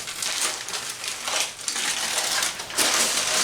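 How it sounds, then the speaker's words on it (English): Aluminum foil crinkling and tearing as it is pulled off a sous vide cooked, smoked beef brisket, a close, loud rustle in repeated bursts with no talking. "I did cover it with foil. Get this all off."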